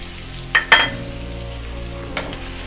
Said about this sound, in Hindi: इसको भून लेंगे